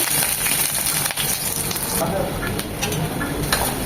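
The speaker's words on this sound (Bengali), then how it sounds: "তেলটা গরম হয়ে এসেছে দিয়ে দিচ্ছি দু চামচ পেঁয়াজ কুচি" Chopped onion frying in hot mustard oil in a pan while a rida fish curry with ridge gourd is cooked, giving a steady, close, dense sizzle that runs unbroken for the whole stretch.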